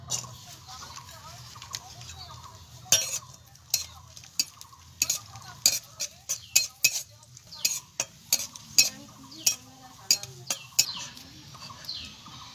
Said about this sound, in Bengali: কিশমিশ ভেজে নেব।